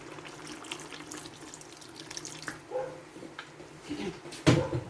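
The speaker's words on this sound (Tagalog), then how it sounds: "Lagyan ko pa siya ng kaunting tubig para sa ating sabaw" Water is poured and splashes in a kitchen while chicken soup with vermicelli noodles cooks, a light running trickle ending in a sharper splash near the end.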